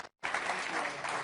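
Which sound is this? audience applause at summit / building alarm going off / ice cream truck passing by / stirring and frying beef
audience applause at summit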